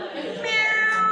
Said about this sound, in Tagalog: How about C for the cat?